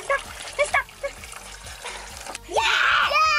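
Water poured onto a trampoline during backyard summer play lands in a sudden, loud splash and keeps splattering. Excited children's voices chatter and shout just before it.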